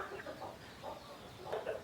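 Chickens clucking in a coop on a farm raising young birds: a few soft, low clucks at a distance, quiet and intermittent, with a small cluster of calls near the end.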